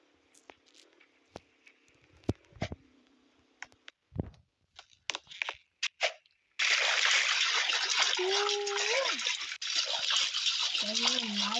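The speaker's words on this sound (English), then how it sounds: "let's go for a swim in the lake" Swimming in a warm lake: a few scattered splashes and clicks at first, then a sustained loud broadband wash of churning water through the latter half, with voices talking over it.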